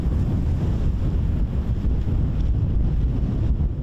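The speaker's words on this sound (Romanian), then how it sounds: "Astăzi este o zi frumoasă în care bate vântul" Steady wind blowing hard across a microphone at a rough Black Sea shore, a continuous low rushing roar with possible surf beneath, close and loud with no voices.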